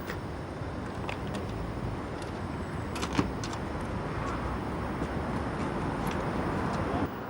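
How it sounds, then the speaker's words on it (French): A Panhard Dyna vintage car more than fifty years old driving along, with a steady engine and road rumble throughout and a few faint clicks and rattles. "Circuler avec sa Dinah Panhard, qui accuse plus de 50 ans."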